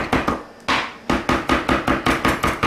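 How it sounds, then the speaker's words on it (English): Knife chopping fresh cilantro finely on a cutting board, a quick run of close, regular thuds with a short pause early on, no talk. "it's easier once you give it a coarse chop to go ahead and work your knife through it to make it nice and fine"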